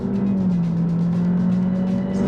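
A Honda Civic Hatchback engine pulls hard under acceleration, a loud, steady drone rising slightly in pitch, heard from inside the car with no talking.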